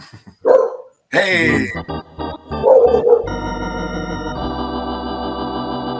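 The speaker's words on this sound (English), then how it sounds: "Sorry for the barking dog." A dog barks loudly and close by, with several sharp barks and yips breaking out in quick bursts, and a voice calls out briefly among them before a steady tone takes over.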